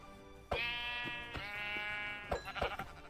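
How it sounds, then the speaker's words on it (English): Minecraft sheep bleating on a mountain, several clear harmonic bleats in quick succession, close and fairly loud with no talk over them. "I noticed that there were some sheep up on the mountain"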